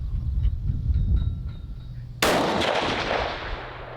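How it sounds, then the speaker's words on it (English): A single sharp rifle shot cracks out on a shooting range during zeroing, loud and close, followed by a decaying echo after a quiet stretch of faint background clinks. "Shooting again. Holding center."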